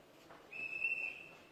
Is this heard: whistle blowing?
yes